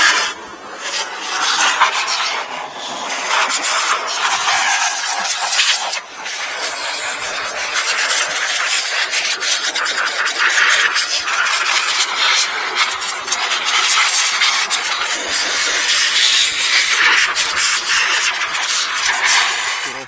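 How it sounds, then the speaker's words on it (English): An old-fashioned leaf blower dries the wet engine bay of a Toyota RAV4 Prime after washing. It gives a continuous, loud rushing hiss of air at low power, broken only by a brief dip partway through. "Old-fashioned leaf blower"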